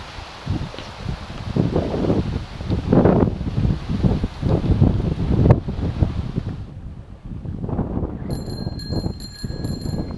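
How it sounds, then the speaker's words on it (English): Gusty wind buffets the microphone in a park on Florida's Treasure Coast, a loud rushing roar that surges and eases in waves. Near the end a few faint, high bell-like chimes ring out. "And it is windy."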